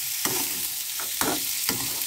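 Carrot and peas curry being stir-fried in a pan, with a steady sizzle and three or four distinct scraping strokes of a spatula, close and clear.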